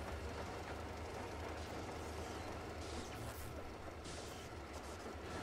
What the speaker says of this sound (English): Now we're going back to our train.